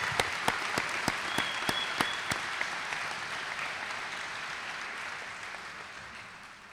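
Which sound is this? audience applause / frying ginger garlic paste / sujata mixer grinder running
audience applause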